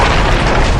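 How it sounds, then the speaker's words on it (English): A video-game explosion fills the moment as a loud, dense, sustained boom with broadband rumble, heard alone without any talk over it. "Did you see that explosion? What? Something exploded!"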